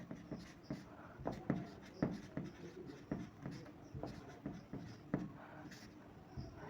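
Writing on a board during a geography lesson listing Andaman and Nicobar, a quick series of scratchy strokes and taps in uneven rhythm, close and fairly quiet, with no talk.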